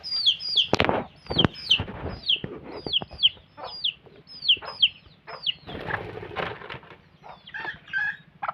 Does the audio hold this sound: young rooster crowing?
yes